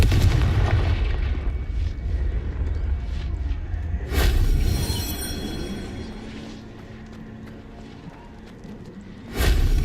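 Spell explosions in Hogwarts Legacy: loud booming blasts with sharp onsets around the middle and end, over a rumbling game soundscape with whooshing magic effects.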